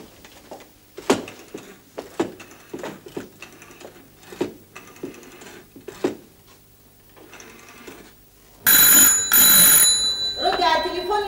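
Scattered clicks and knocks with voices talking, then a telephone in an Egyptian intelligence-drama office suddenly rings loud and shrill for about two seconds, close by, before talk resumes.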